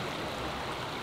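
A stream rushes steadily near a large sluice valve, a dense, even wash of running water heard close and alone with no voices.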